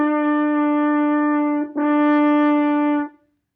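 A single sustained French horn note, tongued at the start, briefly breaks and is re-tongued midway, then holds steady before cutting off cleanly. No voice.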